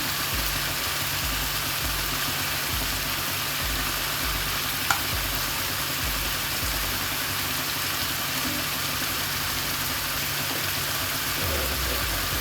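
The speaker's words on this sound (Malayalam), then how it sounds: "ചെറുതായിട്ടൊന്ന് വഴന്ന് കിട്ടിയാൽ മതി." Paneer masala ingredients sauté gently in a pan over low-to-medium heat, giving a steady soft sizzle with a faint low hum underneath, close and without talk.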